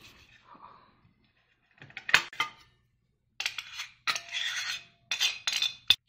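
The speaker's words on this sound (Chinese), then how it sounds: "去皮以后把它清洗一下，擦姜蓉。" Fresh ginger is rubbed against a grater into paste, heard as short bursts of close, rasping scrapes separated by pauses.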